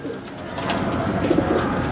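A racing pigeon hen coos softly nearby at a loft after a fun race, giving low rolling cooing calls over a steady background hum.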